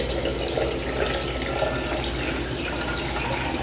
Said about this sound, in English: I'm gonna add the water to